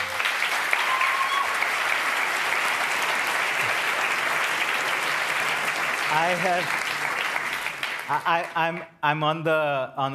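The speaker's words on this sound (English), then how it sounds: "thank you and applause for you" Sustained audience applause for a jury president at an awards ceremony for a global essay competition, dense and steady for about eight seconds before thinning out as a voice begins speaking.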